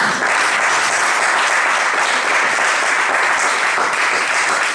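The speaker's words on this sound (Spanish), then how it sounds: "Un aplauso para Manu." Applause at a Podemos political presentation in Alagón, a loud, even wash of clapping from a gathered audience, sustained without a break.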